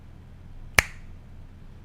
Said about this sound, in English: when I snap my fingers